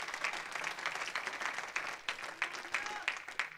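A church congregation claps together in praise during a Spanish-language service, a steady wash of applause at a moderate, somewhat distant level with a few sharper individual claps standing out.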